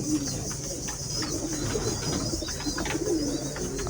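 Domestic pigeons, including a breeding male, cooing softly in a home loft, low repeated murmuring coos with no talk.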